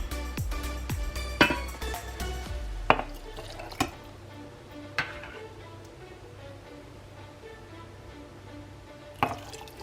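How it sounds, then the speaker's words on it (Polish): Sauce is poured over goulash meat packed into a glass jar, with gurgling, wet splashes and several sharp clinks against the glass, busier at first and then thinning to quieter drips and taps. "Następnie mięso zalewam sosem."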